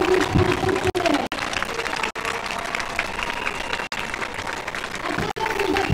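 Sustained applause from a crowd at a health workers' mobilization rally in June 2020, steady dense clapping that continues for several seconds with brief dips, a voice faintly mixed in.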